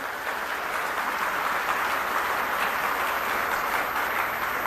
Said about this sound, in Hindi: एक बार जोरदार तालियां बजा के हमारी टीम का हौसला बढ़ा दीजिए